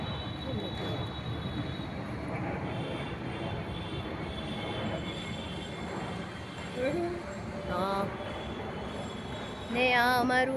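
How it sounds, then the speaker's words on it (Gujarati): An airplane passing overhead near an Ahmedabad neighbourhood, a broad continuous engine roar filling the background while people talk nearby. "અને અહીંયા પ્લેન બહુ આવે છે."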